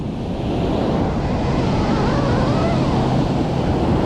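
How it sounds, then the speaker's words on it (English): Ocean waves washing over a beach shore, a loud continuous roaring wash of surf with wind rumble on the microphone, steady and close throughout with no voices. "So watch what happens when the waves wash over it."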